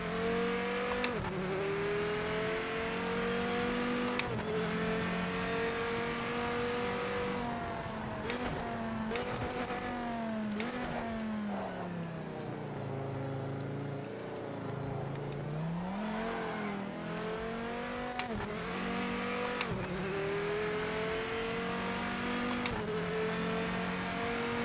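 A Dodge Viper race car engine in a racing video game roars steadily, rising and falling through gear shifts with a deep dip in revs midway, loud and continuous throughout.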